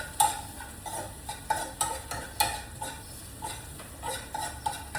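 Onions sautéing in a pan for a buttermilk curry make a soft, steady sizzle, broken by repeated stirring clinks and scrapes of a utensil against the pan.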